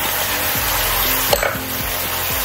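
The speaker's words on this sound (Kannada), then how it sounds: "ಈಗ ಇದನ್ನು ಚೆನ್ನಾಗಿ ಮಿಕ್ಸ್ ಮಾಡ್ಕೊಳ್ಳೋಣ" A spoon stirs masala with turmeric and rock salt in a sizzling pan, steady frying hiss under regular scraping strokes and a single clink near the middle, no voices.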